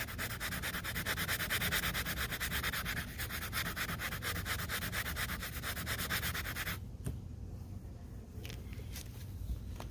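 Fine 1500 grit sandpaper rubs back and forth in a fast, even rhythm, a close gritty scratching that runs steadily before stopping abruptly, leaving quieter light scraping.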